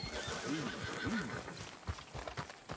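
In the video game Red Dead Redemption 2, a horse whinnies twice in quick succession, followed by hoof clops and faint voices in the background.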